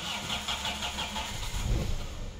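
A 2000 Daihatsu Taruna CSX with a carburetor engine cranks and catches, the motor rising into a brief rough rev before settling, heard up close for a couple of seconds.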